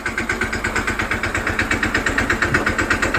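A new tractor's diesel engine chugs steadily at idle as it pulls into a home yard for the first time, a close, even, rapid pulsing throb with no speech over it.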